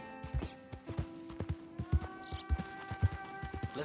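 A horse's hooves clip-clop in a steady trotting rhythm in Red Dead Redemption 2, each hoof fall a distinct thud over faint tonal game music, close and moderately quiet.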